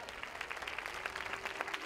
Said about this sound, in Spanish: Fuerte aplauso para ellos dos.